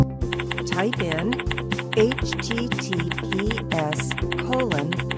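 Quick clicking keystrokes on a computer keyboard as a URL is typed, a dense irregular tapping run under a continuous voice and music.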